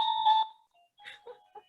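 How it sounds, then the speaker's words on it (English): A doorbell chime rings out a short melodic tune, a sustained tone followed by a few quicker notes, fairly close and clear in a quiet room. "hey, that's our doorbell. Don't you love that music?"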